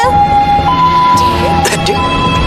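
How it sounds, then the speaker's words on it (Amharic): An ambulance siren sounds loud and close as a steady wailing tone over road noise, heard from inside a moving vehicle. "አምቡላንሱ።"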